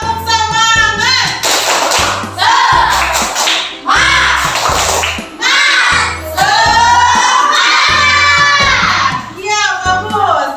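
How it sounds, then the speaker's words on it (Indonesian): Schoolchildren in an Indonesian primary classroom perform a rhythmic spirit clap, loud patterned claps in quick bursts and pauses mixed with the kids chanting together in unison, filling the whole clip. "Tepuk semangat!"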